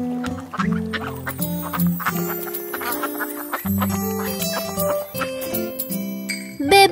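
Cartoon duck quacks punctuate an upbeat children's song, repeated nasal honks set against bouncy instrumental music and light jingling percussion, bright and up front.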